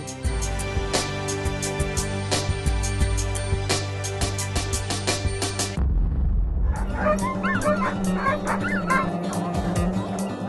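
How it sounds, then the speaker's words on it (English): Sled dogs bark and yip in an excited, overlapping chorus close by, a dense run of loud barks that breaks briefly before whimpers and yelps pick up again. "This is the sound of happy dogs."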